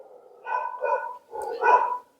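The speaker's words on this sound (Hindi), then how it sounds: "बैकग्राउंड में नॉइज आ रही होगी, गली के कुत्ते भी ना" Street dogs in a neighbourhood lane bark twice in quick succession, two loud, fairly close yelping barks with silence around them.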